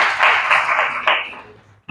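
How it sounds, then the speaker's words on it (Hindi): Students in a classroom clap together for a classmate, a dense burst of applause that fades out over about two seconds. "तालियां बजाओ इनके लिए"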